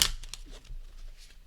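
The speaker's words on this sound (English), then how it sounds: "Now, as always, a shuffle demonstration really." A stiff Mystic Mondays Tarot deck is shuffled by hand, giving a short burst of riffling card flutter followed by softer papery rustles, close and alone.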